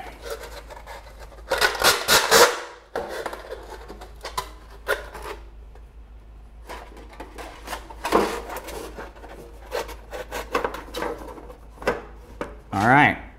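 A V-shaped notch is cut into the bottom of a metal can for a homemade rocket can heater, producing irregular crunchy, scraping bursts of metal cutting with pauses between them, fairly close.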